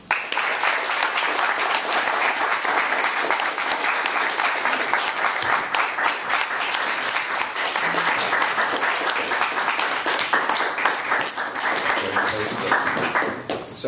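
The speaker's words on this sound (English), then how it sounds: "Please warmly welcome Mark Doty." An audience at a poetry reading gives sustained, steady applause welcoming the poet, dense clapping at an even level throughout with no talk over it.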